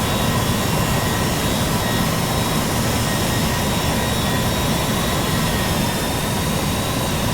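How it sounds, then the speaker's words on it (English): An America West CRJ jet rolls for takeoff at Tucson in Flight Simulator X, its engines giving a loud, unbroken roar that holds steady from start to finish. "There's another aircraft besides American 982 taking off again"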